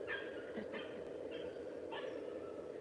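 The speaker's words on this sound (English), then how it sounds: "this guy's two dogs are fighting each other" Two dogs fighting in a home in West Virginia, with scattered barks and yips over a steady background hum, a few short bursts somewhat distant.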